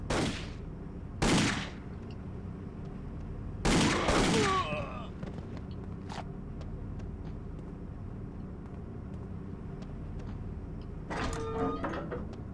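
Bursts of gunfire in the video game Indiana Jones and the Infernal Machine, several loud broadband cracks spread across the clip over a steady game ambience, with a short burst near the end.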